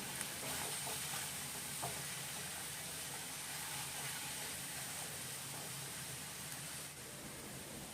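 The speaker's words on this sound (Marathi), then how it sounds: "मसाले तेलामध्ये परतवून घेऊ" Spices with turmeric and Agri masala sautéing in hot oil alongside golden ginger, garlic and chilli, a faint, steady sizzle and hiss with a few light stirring scrapes and no talk.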